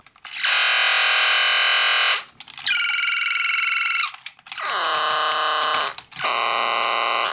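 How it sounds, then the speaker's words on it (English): Four bursts of harsh, buzzy electronic tones from an original G1 Galvatron Transformers toy with faulty sound, each about a second or two long with short gaps, loud and slightly distorted with warbling pitch. "My original Galvatron toy still makes sounds, but apparently they're a little bit messed up when compared to other copies."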